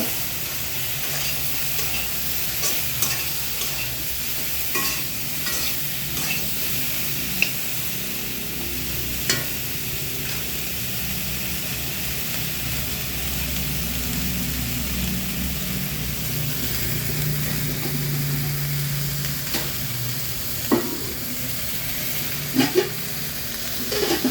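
Aubergine pieces seasoned with salt and turmeric fry in oil, giving a steady close hiss and sizzle broken by occasional scrapes and taps of a spoon stirring the pan.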